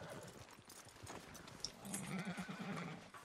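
A horse in the video game Red Dead Redemption 2 whinnies amid hoofbeats and ambient outdoor noise, fairly faint, with a voice murmuring in the background.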